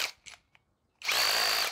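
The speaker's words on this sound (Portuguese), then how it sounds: "Ó, no 20 ela aciona a embreagem." A Tecepo cordless drill spins up briefly at torque setting 20, a loud, close whine with the clutch engaging, preceded by a few quick clicks of the collar being turned.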